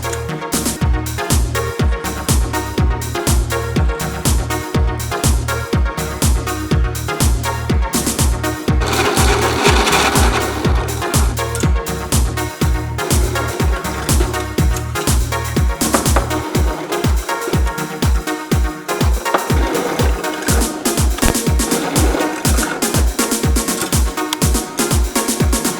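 Drilling holes in steel shelf brackets: a rapid, regular mechanical chatter throughout, with a louder whining burst of cutting near the middle, close and loud, with no talk.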